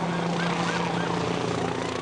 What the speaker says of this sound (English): a jumping castle and a helicopter landed